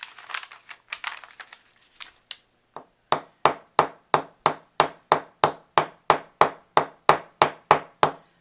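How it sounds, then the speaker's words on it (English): A ball peen hammer strikes wire on a steel bench block covered with paper: a few irregular taps and crinkles, then a steady run of about seventeen sharp, evenly spaced close metallic blows. "Now I'm going to hammer against a steel bench block"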